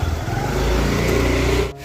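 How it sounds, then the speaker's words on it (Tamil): Motorbike setting off on a road trip, a loud, close engine drone with wind rush as it pulls away and rides, briefly dropping near the end. "2 பேருமே இப்போ வண்டியில் தான் கிளம்பிருக்கோம்."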